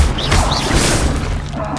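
Levioso levitation spell cast in Hogwarts Legacy, a sustained magical whoosh with impact-like crashes and shimmering upper tones, loud and continuous for almost two seconds without any voice.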